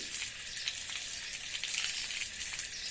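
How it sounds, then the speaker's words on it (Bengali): Herb stems being washed in water, a steady broadband wash of running or splashing water with no pauses, close and moderately loud, with no talking. "আমরা ডাইগাগুলা ভালো করে ধুয়ে নিচ্ছি"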